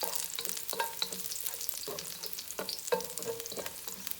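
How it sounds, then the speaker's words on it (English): Garlic stir-frying in oil over medium heat for Hong Kong style eggplant, a soft steady sizzle with repeated light spatula scrapes and taps, fairly quiet and alone. "And we are going to stir fry our garlic"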